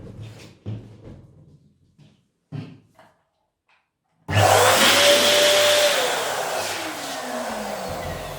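An electric balloon pump starts abruptly and runs with a loud, steady whirring drone, inflating 11-inch round balloons, its pitch sliding slightly as the balloons fill, after a few quiet handling knocks.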